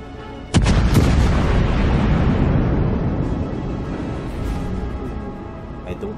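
Naval artillery from a light cruiser in World of Warships fires a loud, close salvo, a sharp booming blast followed by a long rolling rumble that slowly fades, with a faint pop near the end.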